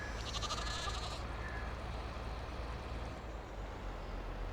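Goats bleat in Farming Simulator 22 over a steady low rumble and background noise, the calls blending into a continuous farmyard din.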